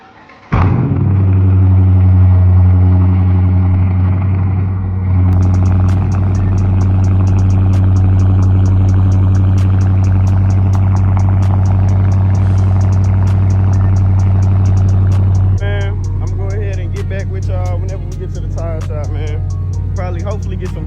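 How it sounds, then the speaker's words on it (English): A Dodge Challenger 5.7 T/A V8 fires up from cold with a sharp starter catch, then settles into a loud, steady, deep idle rumble that holds close and even for the rest of the clip. "I'm gonna give y'all this cold start video"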